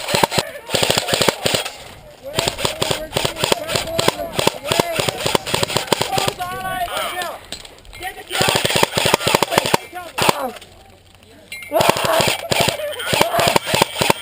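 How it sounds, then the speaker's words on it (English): Rapid bursts of airsoft gun fire crackle nearly nonstop during a chaotic outdoor airsoft game, loud and close, with players shouting over the shooting. "I'm getting shot from all angles."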